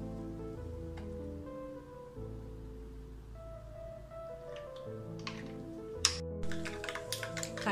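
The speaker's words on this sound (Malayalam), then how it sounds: "കടുക് പൊട്ടിത്തുടങ്ങി." Mustard seeds popping and spluttering in hot coconut oil in a pan while a Kerala-style green gram curry is being made; soft scattered crackles grow into a denser burst of sharp pops over a steady background hum.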